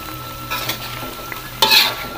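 Cireng terasi, a Sundanese fried tapioca snack with shrimp paste, frying in a pan: a steady sizzle and crackle with a few sharper bursts as pieces are stirred, loudest near the end.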